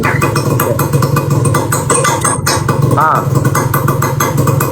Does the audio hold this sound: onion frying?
no